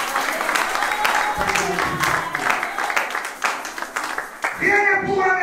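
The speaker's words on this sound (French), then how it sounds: "Applaudissez-moi" Steady applause from a church congregation during an evangelist's sermon, blended with crowd noise and voices throughout, and a voice rising clearly over it near the end.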